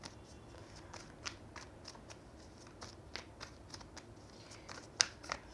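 Tarot cards being shuffled and handled during a Hindi-language reading, a run of soft quick riffling flicks and slides with one sharper snap near the end, close and quiet with no talking.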